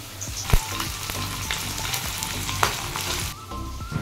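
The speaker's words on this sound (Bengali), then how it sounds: "এখন মাছ ভাজাটা বসিয়েছি" Fish fries in a pan with a loud, close, continuous sizzle, broken by a few sharp pops and clatters.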